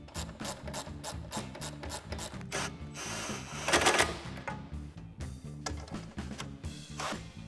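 A ratchet tightens the hardware on a cold air intake being fitted to a Jeep Wrangler JL with the 3.6L engine. Quick repeated clicking strokes come in bursts with metallic rubbing, up close, with no talking.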